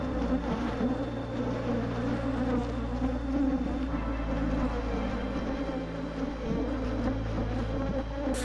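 Honeybees swarm around a beehive being prepared for spring, a dense, steady buzzing drone that fills the whole stretch, close and loud with no breaks.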